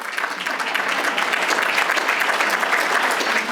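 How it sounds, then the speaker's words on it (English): Loud, close audience applause during a speech by a city clerk, a dense flurry of many hands clapping that swells slightly and stays full throughout. "You can clap."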